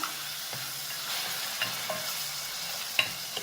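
Tomato paste sizzles as it fries in a pan of kurma, with a steady close hiss and a few soft clicks and scrapes of stirring scattered through it.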